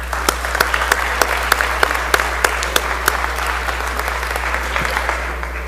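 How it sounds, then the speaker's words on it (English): State House floor session audience giving a round of applause, steady crisp clapping from many people with individual sharp claps over a low constant electrical hum, fading slightly at the end. "So let's all give them a round of applause."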